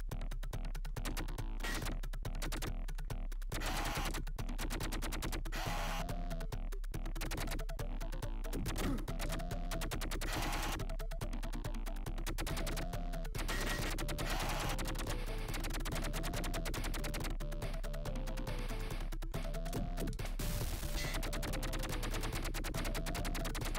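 Rapid gunfire in a Sega Mega Drive platform game, bursts of chiptune shots crackling steadily over a constant looping game soundtrack, loud and continuous for the whole stretch.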